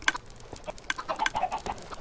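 Large flock of around 250 chickens in a video game, scattered short clucks and squawks overlapping at close range, fairly quiet and irregular.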